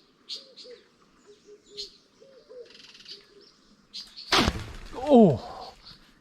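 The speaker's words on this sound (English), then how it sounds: "Some pigeons on the top of the roof" Pigeons on a rooftop give soft, low cooing calls in short repeated phrases, fairly faint, with light chirps, then a sudden loud rustle and a brief burst of nearby sound.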